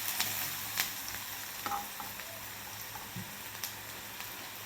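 Onion frying in a pan for tomato chutney crackles with a constant close sizzle, punctuated by a few light stirring clicks and scrapes.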